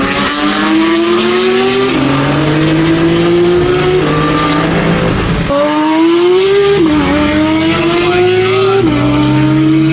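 A tuned sports car with a downpipe and tune, engine revving hard and loud, its pitch repeatedly climbing and dropping through gear changes, up close and sustained with no talking.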